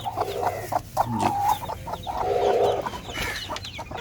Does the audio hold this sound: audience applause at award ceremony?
no